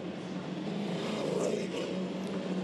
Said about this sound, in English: Cars now rolling out onto the racetrack.